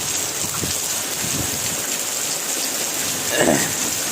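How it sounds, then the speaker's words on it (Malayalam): Heavy rain pours down outdoors where a buffalo and calf are tethered, a dense, loud, even hiss of downpour with a brief heavier rush near the end. "നല്ല മഴ പെയ്യുണ്ട് ശക്ത മഴ"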